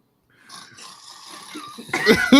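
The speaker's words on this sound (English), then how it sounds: "It's like fucking Three Stooges snoring" Someone snoring with loud, ragged, rattling breaths that build over a couple of seconds, the sound growing louder and rougher toward the end.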